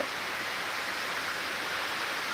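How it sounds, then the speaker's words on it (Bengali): Heavy rain pours over Chattogram city in Bangladesh as an even, unbroken hiss, with no voices or other sounds standing out. "প্রচুর বৃষ্টি হচ্ছে শহরে"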